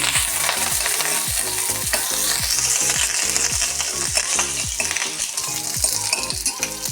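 Curry leaves and urad dal fry in a hot pan for coconut chutney, a steady loud sizzle with repeated rhythmic stirring scrapes throughout, no voices.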